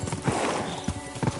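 Horse hooves clip-clop in the medieval video game Kingdom Come: Deliverance 2, a brisk, even rhythm of close hoofbeats over a soft ambient bed.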